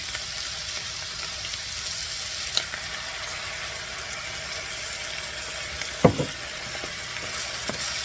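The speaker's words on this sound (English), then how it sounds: "Now, I'm going to put my Alfredo sauce in here." Alfredo sauce poured over ground turkey in a frying pan gives a steady broadband sizzle throughout, with a few soft clinks or stirring knocks near the middle, fairly close and with no talking.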